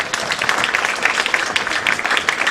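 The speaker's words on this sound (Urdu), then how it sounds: "تالیاں" An audience at an annual dinner applauds, a loud, close burst of many hands clapping in a rapid, uneven patter that holds steady throughout with no speech on top.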